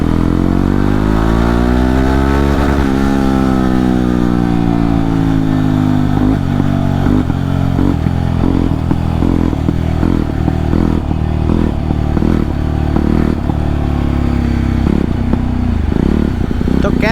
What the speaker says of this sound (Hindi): तो लो भाई सुनो 42 बॉबर का साउंड,